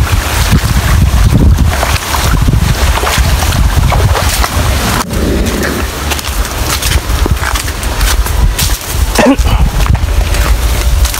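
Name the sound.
wind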